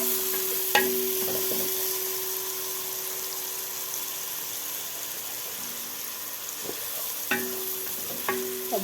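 Large grated onion sizzles steadily in hot fat while a spoon scrapes and stirs in a few distinct clanks, with a faint steady tone underneath and no voices.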